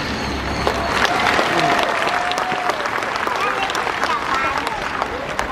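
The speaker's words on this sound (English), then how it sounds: "we'll give him a thunderous round of applause" At a bird show in Jurong Bird Park, Singapore, a large outdoor audience gives a parrot loud, steady applause. The clapping stays even throughout, with crowd murmur underneath and a faint whistle-like tone partway through.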